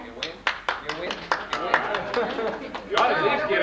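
A reunion audience gives scattered, light applause to vote for a winner, a handful of separate claps under the murmur of chatter.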